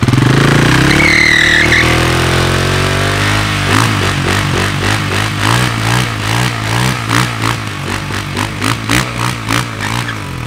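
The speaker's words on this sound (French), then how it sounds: "il fallait que je fasse chauffer la moto pour la vidanger." A 2019 KTM 690 SMC R supermoto single-cylinder engine running to warm up, close and loud, with rising revs early then a steady pulsing idle and rhythmic mechanical chatter.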